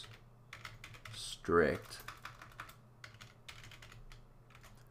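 Fingers tap rapidly on a computer keyboard in a quiet room, a steady run of close, light clicks broken once by a brief spoken word.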